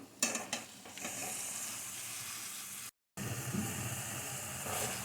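Cut oyster mushrooms dropping into hot oil and spiced gravy, a close sizzle after a couple of sharp clatters at the start, broken by a brief silence before the frying hiss resumes, with no talking.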